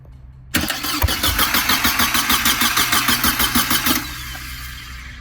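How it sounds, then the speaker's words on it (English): A 2001 Mercedes SLK 170 cranked by its starter motor, a rapid rhythmic whirring churn that begins abruptly, runs for about three and a half seconds, then drops to a quieter hum, close and with no voices. "I tried to activate the starter motor, give it 12 volts to the control wire,"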